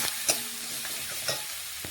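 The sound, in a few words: stirring ginger, cumin, garlic and chilli paste with frying onions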